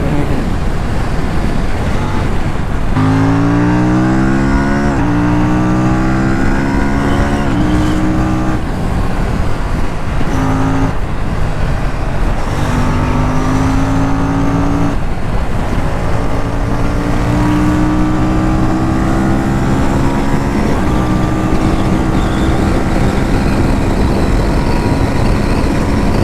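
An Aprilia Tuono 457 motorcycle ridden on an open road: a steady, loud engine drone with rising and falling pitch sweeps as the rider shifts and accelerates, under heavy wind rush throughout.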